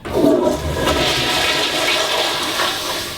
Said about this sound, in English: we're going to flush it down the toilet